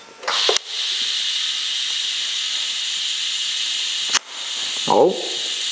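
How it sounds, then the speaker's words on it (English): A steady TIG welding hiss comes from tacking a steel down pipe for a Toyota 1JZ-swapped Fox Body Ford Mustang. It breaks off with short crackling bursts when the tungsten is touched with the filler rod, once early and again near the end. "that's the sound of me tapping my tungsten with the rod instead of the"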